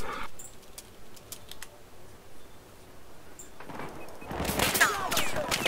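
Gunfire in the Battlefield 4 video game, a fusillade of sharp shots bursting loud near the end after a quieter stretch of scattered distant pops and faint background noise.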